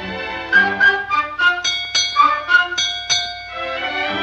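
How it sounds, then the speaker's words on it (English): A ship's bell rings out in a run of clear, resonant strikes for four bells, each ringing tone sustaining and overlapping the next over a low tonal backdrop. "Four bells and all's well."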